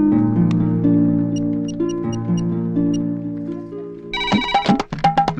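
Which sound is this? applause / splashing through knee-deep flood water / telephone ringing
telephone ringing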